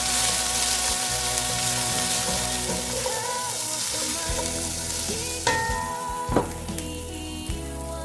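Red onions sautéing in a pan, loud continuous frying sizzle up close with stirring scrapes, and a few sharper clanks of utensil against pan near the end.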